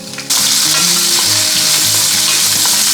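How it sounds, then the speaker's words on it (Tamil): Onion, garlic and green chilli fry in hot oil in a pan, with a loud, continuous close sizzle that starts abruptly and crackles steadily, with a tonal hum underneath. "கொஞ்ச நேரம் வெங்காயம் வதங்கட்டும் அதுக்கப்புறம் பருப்பு ஆட் பண்ணிக்கலாம்"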